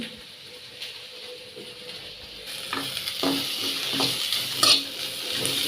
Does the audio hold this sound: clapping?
no